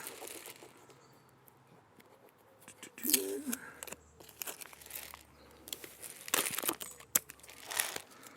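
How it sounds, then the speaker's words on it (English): Sticker being peeled off a Reencle composter, heard as a few crinkly, tearing bursts of varying loudness, close up, with faint handling noises in between and no talk. "Do not remove this sticker, remove this sticker"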